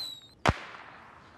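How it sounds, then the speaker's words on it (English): A single sharp firework burst in the film We're the Millers, a sudden loud crack that fades into a soft trailing hiss against a quiet background. "Yeah, we got fireworks."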